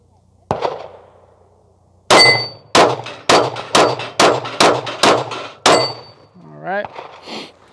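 A Glock 45 fired at steel targets from 12 yards: a close, loud shot, a pause, then a quick run of about eight sharp reports with ringing metallic clangs, and a faint voice at the end.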